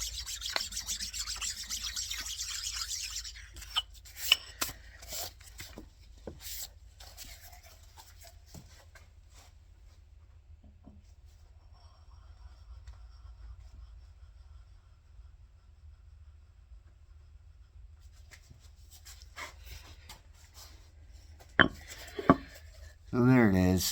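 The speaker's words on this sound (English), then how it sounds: "That is a different scraper I'm using this time. That's a 7 ELM." A Biax 7 ELM power scraper with a longer stroke, scraping metal for step/blind scraping; bursts of sharp scraping strokes at the start and end with quiet stretches between, fairly close.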